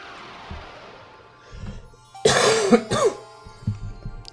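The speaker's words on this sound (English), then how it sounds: "I cough." A few sharp coughs burst out close by in the video game The Legend of Zelda: The Wind Waker, one after another, after a stretch of quiet room noise.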